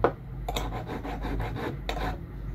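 A metal file rasps against a cuticle nipper to sharpen it, a run of quick close back-and-forth strokes with short breaks between them.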